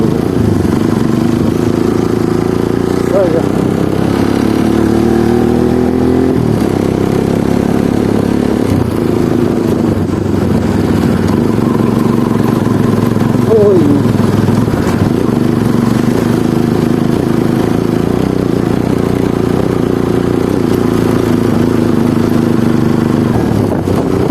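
A motorcycle rides along a road, its engine droning steadily and close throughout with slight shifts in pitch as it changes speed, mixed with rushing wind.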